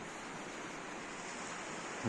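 Rush of the Opir River flowing past a bank in the Skole Beskids national park, a steady broadband water roar with no breaks, heard up close and alone.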